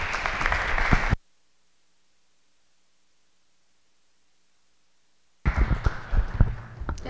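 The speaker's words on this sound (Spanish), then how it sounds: "muchas gracias por el aplauso" Lecture audience at a constitutional law course applauds to welcome a speaker: a short burst of clapping, several seconds of silence, then another round of clapping.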